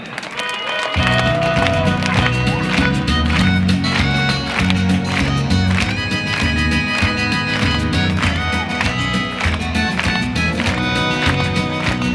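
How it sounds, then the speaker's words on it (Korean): A crowd at a citizens' rally in Yeongju, South Korea, against a lead plant claps together in a steady rhythm over loud music playing throughout. "한마음으로 박수 부탁드립니다."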